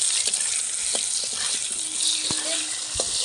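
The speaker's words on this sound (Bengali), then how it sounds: "নুন হলুদের গুঁড়ো দিয়ে আলুটা একটু হালকা করে ভেজে নেবো" Potatoes fry with salt and turmeric in a pan, giving a steady, close, hissing sizzle throughout with a few soft clicks and stirring knocks.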